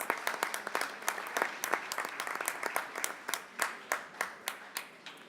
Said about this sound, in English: I think it's an applause